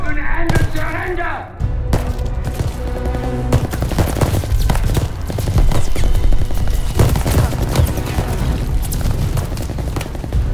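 Heavy gunfire and booming blasts fill a Call of Duty Vanguard campaign battle on PS5, with loud, dense, continuous bursts throughout and voices shouting among the shots.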